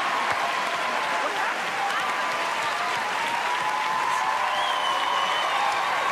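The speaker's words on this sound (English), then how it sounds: "Please give Howie Mandel a huge round of applause." TV talent show audience giving a big round of applause for comedian Howie Mandel, dense sustained clapping and crowd noise at constant loudness, with a few voices mixed in.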